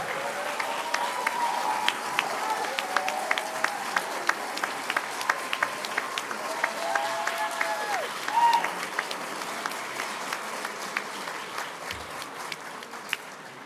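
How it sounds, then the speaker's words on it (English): Steady applause from a large crowd at an attorney induction ceremony, dense clapping sustained throughout with a few whistles and cheers rising over it. "get a round of applause from all our students of thanks for all the work that you did"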